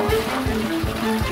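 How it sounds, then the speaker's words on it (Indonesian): Water splashes and trickles close by as a toilet full of bath-bomb foam is flushed, a short bubbly rushing with talk heard over it. "Dan siram."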